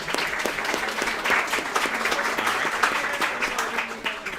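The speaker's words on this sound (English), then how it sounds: "Can we clap it up for Coach Bonus?" A roomful of people applauds steadily for Coach Bonus of the Liverpool boys soccer team, a dense, fairly loud wash of clapping with faint voices mixed in.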